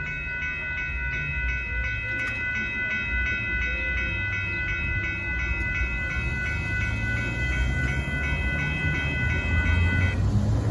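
Northbound Amtrak Texas Eagle 22 passenger train passing at Dittmar Road in Austin, Texas: a continuous rumbling roar of rolling cars with a sustained multi-tone horn held over most of the pass, steady and fairly close.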